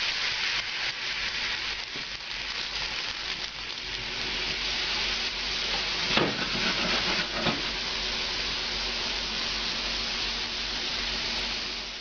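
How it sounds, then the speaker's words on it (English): Mushrooms flambéed with an ounce of cognac give off a steady hissing sizzle in the pan, with a brief louder flare and clatter partway through. "So we're going to flambe them with about an ounce of cognac."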